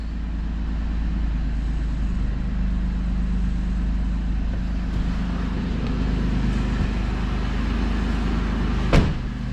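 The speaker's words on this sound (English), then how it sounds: "All 4 wheels are spinning." Re-geared third-generation Toyota 4Runner with 4.88 gears crawling off-road in low four-wheel drive, rear locked and front open, all four wheels spinning; a steady loud low engine drone runs throughout, with a sharp knock near the end.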